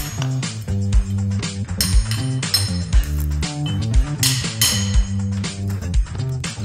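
Repeated metallic hammer strikes and clinks ring out in an uneven rhythm, close and loud, as a Wunderbar pry bar and hammer pry and knock loose a carpet tack strip nailed into concrete.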